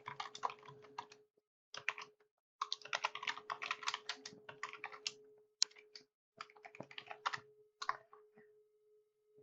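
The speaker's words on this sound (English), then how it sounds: "I typed in an address" Typing an address on a computer keyboard, close quiet bursts of rapid key clicks separated by short pauses, with a faint steady background hum and no speech.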